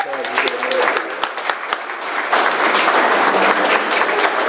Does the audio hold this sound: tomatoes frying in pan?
no